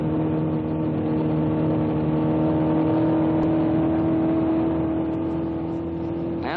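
Ford Mustang I race car with a 1.5-liter engine, a steady droning engine note holding constant with a whirring tone, close and continuous, with no voices.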